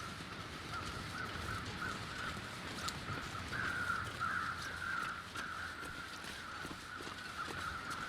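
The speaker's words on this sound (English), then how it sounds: "listen to the crows make all the noise in the world" Crows cawing repeatedly over a steady windy outdoor ambience in the survival video game The Long Dark, moderately near and alone without speech.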